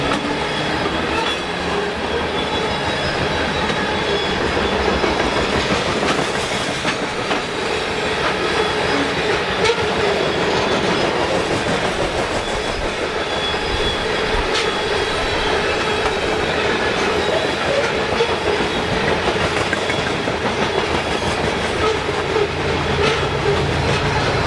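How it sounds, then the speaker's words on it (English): A CSX freight train of gondolas loaded with construction garbage rolls past on a hot day, a loud continuous rumble with rhythmic wheel clatter and occasional squeal, heard close and steady throughout. "It's a garbage train. These gondolas are loaded to the gills with trash."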